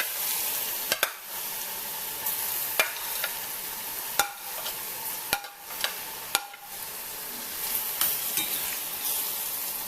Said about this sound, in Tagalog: Yung ilalagay ang garlic sa olive oil.